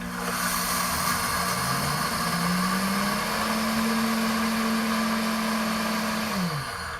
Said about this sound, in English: I'm just gonna turn the button until it gets to grind, and then I'm just gonna push this button here